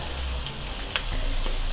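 Garlic and butter sizzle steadily in a pan while being stirred, a close, continuous crackling fry with a brief scrape of the spoon partway through.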